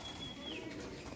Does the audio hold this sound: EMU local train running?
no